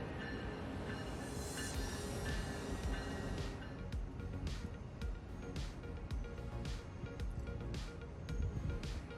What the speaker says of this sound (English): like this Northeast Regional down to New York.